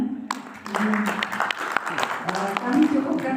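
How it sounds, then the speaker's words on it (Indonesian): Participants at a village tourism training in Magetan applaud, a scattered round of clapping from a modest group, with people talking over it. "Oke, tepuk tangan semuanya."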